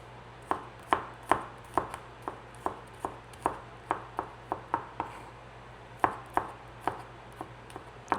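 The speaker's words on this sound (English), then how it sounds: "let's cut up your garlic" A knife chops garlic on a cutting board in a home kitchen, making about twenty crisp, sharp knocks at an irregular, fairly quick pace. The steady hum of a nearby appliance runs underneath.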